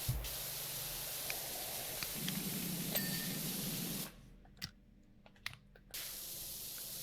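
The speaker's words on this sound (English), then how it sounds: "Yeah, I'm gonna just spray a bunch of this with soap." A virtual power washer sprays soap in the video game PowerWash Simulator 2, giving a steady, close hiss for about four seconds before cutting off, leaving faint clicks and small taps.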